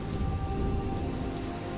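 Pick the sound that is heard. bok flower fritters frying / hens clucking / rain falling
rain falling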